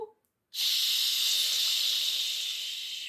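A voice imitates steam hissing from a kettle: one long, steady breathy hiss starting after a short pause and holding for several seconds.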